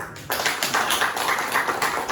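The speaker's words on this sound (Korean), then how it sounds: "다시 한번 모두 큰 박수로 환영해 주시기 바랍니다." Seminar audience applauds to welcome the panel discussants: after a quieter moment, loud clapping starts abruptly and continues in a close, rhythmic, slightly uneven patter.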